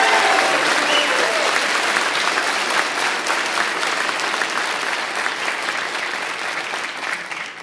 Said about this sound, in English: how about a big round of applause for our Williamsburg firefighters?